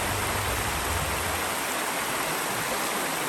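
A river in Meru National Park, Kenya, flows steadily with a continuous broad rushing of water, close and even throughout, with no voices.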